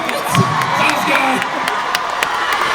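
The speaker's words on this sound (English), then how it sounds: "Can we please give him a round of applause?" Crowd cheering and whooping at a press conference with the Rurouni Kenshin cast in Glorietta, loud and continuous with sharp shouts over a steady roar of voices.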